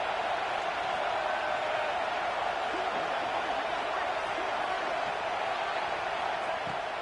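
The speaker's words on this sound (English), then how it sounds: "Man, this crowd really affecting the football game." Stadium crowd in an NCAA football video game, a steady, dense roar that holds at an even level for the whole stretch with no breaks.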